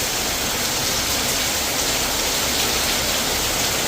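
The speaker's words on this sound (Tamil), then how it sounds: "மழை மழை மழை பெய்யுது." Steady rain pours down continuously, a dense, even hiss of drops striking surfaces close by, with no talking and no pauses.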